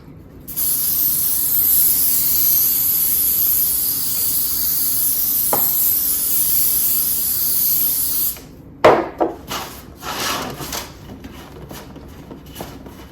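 A can of butter-flavored cooking spray lets out one long, loud, continuous hiss lasting about eight seconds, followed by close clattering and handling noises.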